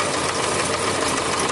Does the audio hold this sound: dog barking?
no